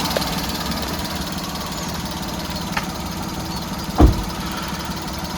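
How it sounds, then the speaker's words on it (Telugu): A 2019 Maruti Alto LXI idles steadily with its bonnet open, a low even engine hum that runs throughout, broken by one brief louder knock partway through. "ఇప్పుడు ఇంజన్ ఆన్లో ఉంది. ఇంజన్ సౌండ్ అయితే మీరు వినొచ్చు."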